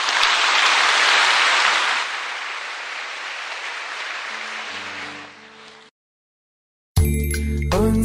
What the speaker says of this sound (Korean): 하나님께 감사의 박수 올려드립니다